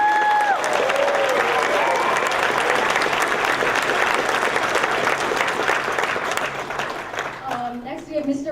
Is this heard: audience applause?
yes